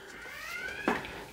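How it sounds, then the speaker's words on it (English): A workplace alarm sounds as a steady electronic tone with a faint harmonic layer, continuing in the background while a short sharp knock or clack lands near the end. "And I have an alarm going off at work."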